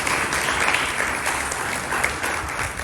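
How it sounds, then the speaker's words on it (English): Crowd applause for Mike Smith, a local police jury official, at an RV resort grand opening; a brisk, steady wall of clapping from a gathered audience, fairly close and loud throughout. "Let's give Mike a round of applause."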